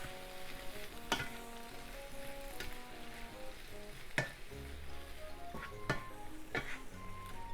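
Squid stir-frying in a pan with garlic, mirin and soy sauce as it is stirred: a steady close sizzle runs throughout, broken by a few sharp clicks and scrapes of the utensil.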